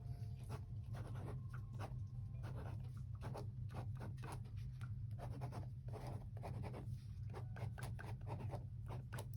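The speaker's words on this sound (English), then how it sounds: "Now I need to actually write the text that says bro moment" A pen scratching lettering onto a watercolor painting, close and quiet, with quick rhythmic strokes and scrapes over a low steady background hum.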